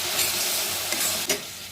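A green chili, garam masala and roasted cumin spice paste sizzles steadily in a pan while being stirred, with a couple of brief scraping strokes near the end.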